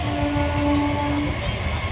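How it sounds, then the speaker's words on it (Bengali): A train passes on a foggy morning, making a low, steady rumble. A sustained horn tone sounds over the first part and then fades out. "এখন ট্রেন যাচ্ছে"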